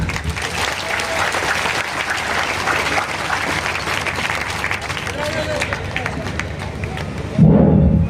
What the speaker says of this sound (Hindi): मैं एक बार निवेदन करूंगा कि आप ताली बजाकर उनका स्वागत।